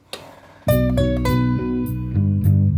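Small ukulele strummed in bright chords, a soft note first, then a rhythmic run of strums close up with no talking.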